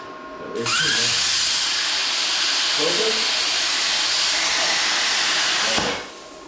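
A Vevor plasma cutter cuts metal, a loud sustained hiss that starts abruptly, holds for about five seconds and then cuts off, close by with no talk over it.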